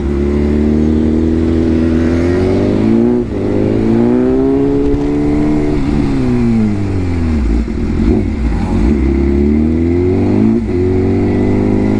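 A sports motorcycle engine, either a BMW S1000RR or a Yamaha R15, revs hard during a wheelie, a loud continuous drone rising and falling in pitch several times as the throttle opens and eases, with no talk.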